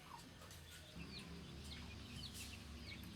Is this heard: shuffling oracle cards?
no